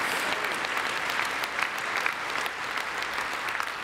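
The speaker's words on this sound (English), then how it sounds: "Let's give that a round of applause, too." A labour federation convention audience claps steadily, a broad continuous wash of applause at moderate volume that holds evenly for several seconds without speech.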